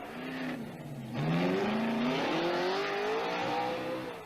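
American stock race cars with 5-liter, 400-500 horsepower engines climb uphill, a loud engine roar rising in pitch as it revs and accelerates, steady and close for several seconds with no talk.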